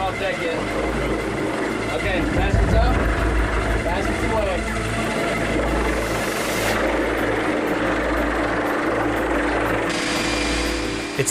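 A rescue helicopter hovering to hoist a hypothermia victim from the sea, its rotors a loud continuous pulsing thrum with engine roar and a voice speaking over it.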